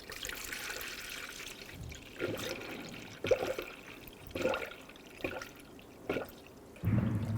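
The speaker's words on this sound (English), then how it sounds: "We're going to pour coolant into the vehicle." Coolant poured through a funnel into the radiator of a 2007-2011 Toyota Camry 2.4L I4, a low trickling, gurgling flow broken by repeated glugging bursts, close and fairly quiet.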